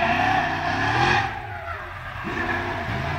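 A 1999 Ford Falcon drift car, a former Dean Perkins car, slides sideways at Leadfoot 2013 with loud engine revving and tire squeal, the pitch rising, dipping briefly, then climbing again close by.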